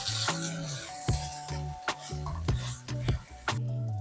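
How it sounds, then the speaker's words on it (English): Rice for Nigerian fried rice is stir-fried in a pan: a quiet series of about eight rhythmic scraping and stirring strokes, close and distinct, with no talking. "Now we're going to transfer the rice into the pan and then stir fry."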